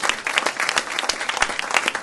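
An audience applauds, a brief dense burst of many hands clapping together at a lively pace.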